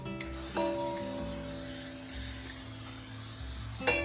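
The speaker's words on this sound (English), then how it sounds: "I'm just gonna give it a good spray." Cooking spray hisses onto a 9 by 13 baking pan in one continuous close burst of about three seconds, bracketed by the clicks of handling the can, with no talk.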